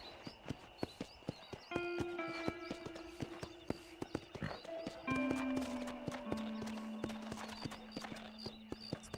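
Hooves clip-clop in a steady, rhythmic trot in the Red Dead Redemption video game, close and clear, while a horse's drawn-out whinny rises over them twice.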